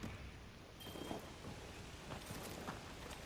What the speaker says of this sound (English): it's constantly raining here